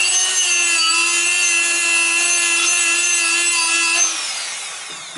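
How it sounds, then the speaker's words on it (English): Sandpaper rubs a car brake disc with a steady, close, high-pitched rasping whine that holds evenly, then tapers off at the end. "I sandpaper also these holes in this my brake disc"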